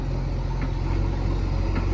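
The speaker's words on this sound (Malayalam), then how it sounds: "നമ്മൾ കാത്തിരുന്ന് കുറേ നേരത്തിന് ശേഷം വണ്ടി വന്നിട്ടുണ്ട് കേട്ടോ." A vehicle engine runs steadily and fairly close, a constant low rumble that holds without clear gaps, arriving after a long wait and labouring up a climb.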